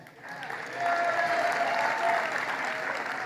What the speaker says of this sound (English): clap for the one you like best